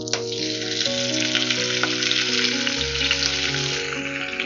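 Diced Spam sizzling in hot oil in a wok, a loud, steady crackling fry that stays dense and continuous throughout, with no voices.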